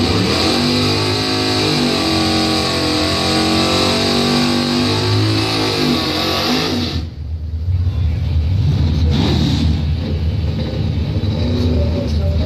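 A 1975 Buick Century race car revs loudly in the left lane at a drag strip, its engine droning steadily with a brief dip midway before roaring back up, heard close and continuous.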